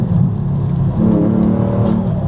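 A Porsche Boxster engine with its exhaust valve open gives a loud, deep, throaty rumble close by. The sound holds steady and swells slightly partway through, with no talking.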